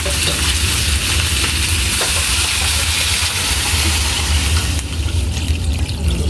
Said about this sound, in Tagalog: So, lagyan na natin na tubig.